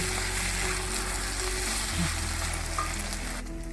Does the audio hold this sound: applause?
no